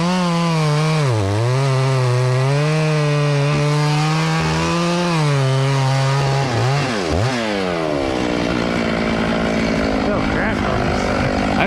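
Chainsaw cutting a hung-up ash tree down piece by piece after a skid steer failed to pull it free, loud and close with a steady high whine, brief revs and dips as the bar bites, then rougher cutting noise near the end.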